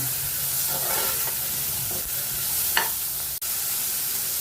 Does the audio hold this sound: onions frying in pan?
yes